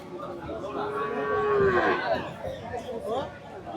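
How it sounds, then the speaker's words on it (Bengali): Cattle low with a long, rising moo at a busy cattle market, close and loud, with crowd chatter murmuring in the background. "এটা অনেক লম্বা গরু।"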